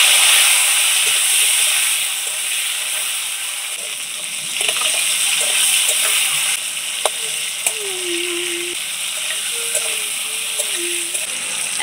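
Chopped tomatoes go into a pan of frying potatoes and a steady, even sizzle follows, with some light stirring and a few faint high tones over the hiss.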